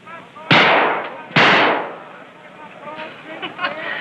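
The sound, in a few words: gunshots fired at a shooting gallery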